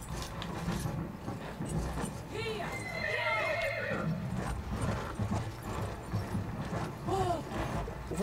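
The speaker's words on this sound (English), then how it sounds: "it's the Hank Hill horse" A horse in the video game Battlefield 1 neighs and whinnies loudly amid rhythmic hoofbeats, with game sounds and players talking throughout.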